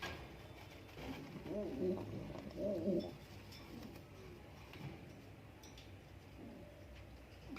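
Pigeons kept in a loft coo softly nearby, in low, throaty bursts that come in two clear phrases and then a few quieter murmurs, with faint background movement.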